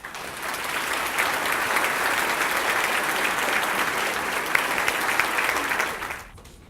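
An audience claps in sustained applause to welcome Dr. Pat Lalley, a dense even wash of hands that holds steady for several seconds and then quickly dies away.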